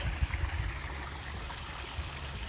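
Steady murmur of flowing water, a soft continuous rush with low gurgles, heard alone without voices.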